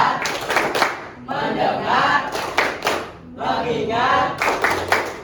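Classroom group clapping game called 'tepuk fokus', with students chanting words in unison and clapping in short rhythmic bursts, loud and close, with brief pauses between sets.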